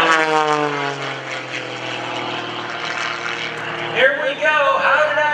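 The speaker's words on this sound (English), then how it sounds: "Rolling the airplane around across the top, he's coming down on a 45, rolls it one way, rolls it the other way" A propeller aerobatic airplane rolls through manoeuvres at the Greenwood Lake airshow, its engine droning loudly with a shifting pitch that sweeps downward and changes as it turns, while an announcer talks over it.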